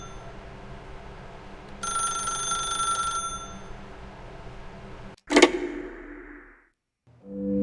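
A telephone rings in the video game The Stanley Parable, a bright metallic bell trill lasting about a second and a half, then a sharp loud clatter and a fading tone, heard alone without talk.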